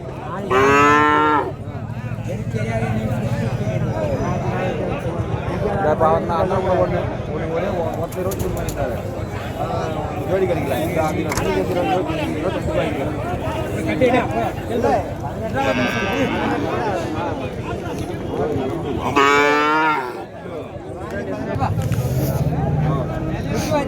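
Cattle and heifer calves at a native cattle market in Matrapalli moo loudly several times, close by, over a steady din of crowd chatter and people talking.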